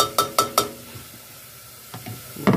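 Seasoned meat for Mexican chili sizzles in a pan as it is stirred, with several sharp scraping clinks of the utensil against the pan at the start and again near the end over a soft steady sizzle.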